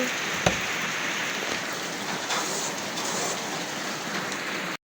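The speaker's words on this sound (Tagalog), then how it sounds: "Malakas ang ulan, malakas ang ulan." Heavy rain pours in a steady, dense hiss, loud and continuous, with one brief thump near the start.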